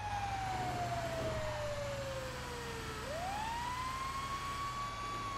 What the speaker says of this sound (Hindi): फायर ब्रिगेड आ रही है